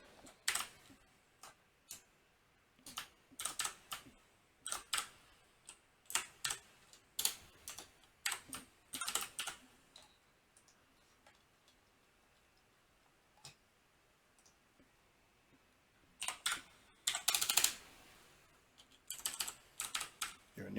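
Quick bursts of typing on a computer keyboard, close and fairly quiet, in clusters of clicks separated by short pauses while data is entered into a spreadsheet, with no talking.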